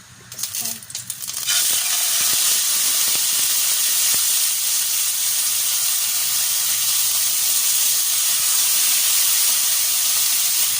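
Salmon laid skin-side down in a hot pan bursts into loud, steady sizzling and hissing that holds without a break, after a short stretch of quieter kitchen clatter.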